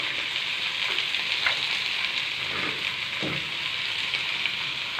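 Onion and garlic sautéing in olive oil, a loud continuous sizzle with crackling pops and occasional utensil scrapes, close and alone.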